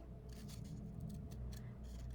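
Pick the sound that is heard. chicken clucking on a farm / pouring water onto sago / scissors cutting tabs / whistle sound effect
scissors cutting tabs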